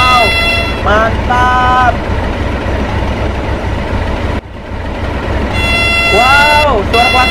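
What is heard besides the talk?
horn of diesel locomotive D301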